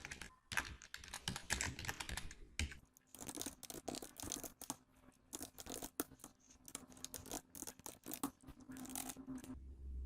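Rapid typing on a computer keyboard while entering names into Microsoft Word, a steady close clatter of keystrokes in bursts with brief pauses, no voices.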